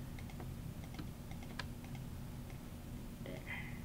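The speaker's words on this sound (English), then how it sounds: "what you have to do is press on your control button. And then you click one by one" Faint, close clicks of a computer keyboard control key being held and a mouse clicking items one by one, soft taps scattered over a low steady hum.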